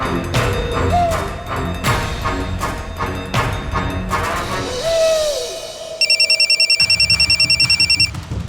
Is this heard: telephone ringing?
yes